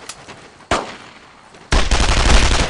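Machine gun fire in the World War II shooter Brothers in Arms: Road to Hill 30, heard as one sharp burst, a short lull, then a loud, sustained, close rattling volley.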